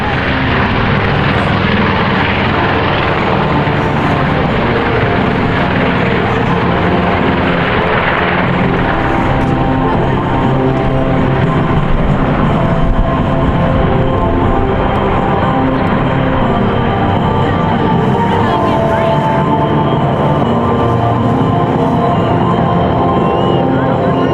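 A WWII B-25 Mitchell bomber flies in a continuous loud propeller engine drone, a heavy steady roar lasting throughout with faint talk beneath it.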